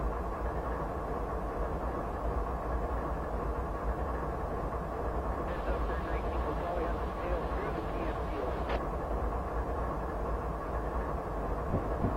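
An ES44AC diesel locomotive in Train Simulator 2015 rumbles along the Horseshoe Curve with a steady low engine drone and rail noise. A brief higher tone comes midway.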